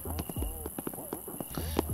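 Hoofbeats from horses galloping in a video game horse race, a quick steady clip-clop rhythm of repeated thuds, with game music and a voice heard alongside.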